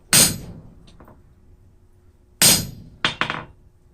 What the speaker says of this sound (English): go ahead and just mark and work back towards yourself with the chisel